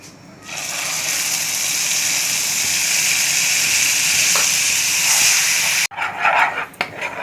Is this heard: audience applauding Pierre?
no